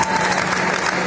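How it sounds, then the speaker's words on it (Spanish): Brief burst of dense audience applause at a Christmas cultural event in Spain, steady and fairly loud for about a second. "vamos a darles un gran aplauso"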